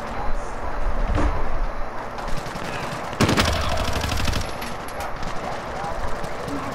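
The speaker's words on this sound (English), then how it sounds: "Receiving hostile fire." Rapid gunfire rattles in bursts during a Call of Duty: Modern Warfare match, with heavy cracks and automatic fire, louder volleys in the middle, distant shots scattered around, and in-game voices and noise underneath.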